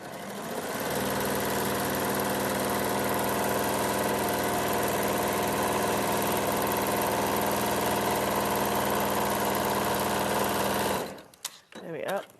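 Sewing machine stitching a fabric seam to join two edges, a loud, steady whirring hum running continuously for about ten seconds before stopping abruptly, followed by a few faint handling noises.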